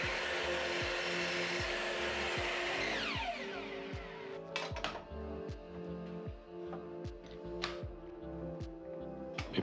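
A handsaw cuts through a small wooden shim, giving quick rasping back-and-forth strokes in an even rhythm, close and fairly quiet, with the strokes growing sparser and choppier toward the end.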